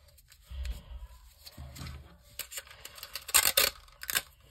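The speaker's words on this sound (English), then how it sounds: "I just like to add some tape so it has more durability" Tape is handled and torn while reinforcing a homemade paper toy gun: soft rustling and low thumps give way to several sharp, raspy ripping bursts close by, with no speech.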